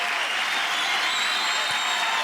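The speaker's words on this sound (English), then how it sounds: "it is Brenda Hahn who emerges victorious, and the crowd loves it" Studio crowd at the American Gladiators competition show applauding and cheering steadily for a dense, unbroken stretch, loud and close with no talk over it.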